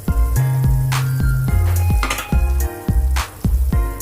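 Pineapple pieces dropped into a pan of sizzling sweet and sour sauce for gurame fish, giving a loud steady frying sizzle broken by repeated clinks and scrapes of a metal utensil against the pan.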